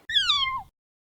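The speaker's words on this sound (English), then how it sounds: "He had a cat." A single cat meows once, a clear, close, slightly falling mew lasting about half a second, followed by silence.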